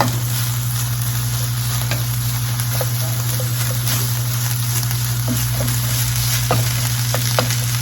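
Seasoned burger meat frying and being stirred in a pan, a loud continuous sizzle close up with scattered scraping stir sounds over it.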